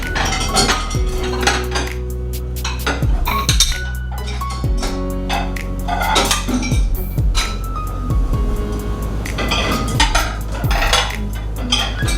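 A fork and a spoon are washed, knocking against dishes and a sink in a busy stream of metallic clinks and clatters, close and fairly loud, with some ringing tones.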